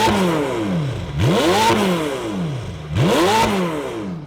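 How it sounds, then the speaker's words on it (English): A McLaren 720S engine with a stainless steel exhaust revs hard twice, each rev rising sharply, then falling back to a throbbing idle, loud and close. "Just give me some revs."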